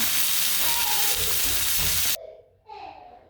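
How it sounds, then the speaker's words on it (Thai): Beef sizzles loudly on a grill for a Thai beef salad. The steady, close hiss cuts off after about two seconds and leaves a fainter, softer sizzle. "เริ่มย่างเนื้อเลยค่ะ"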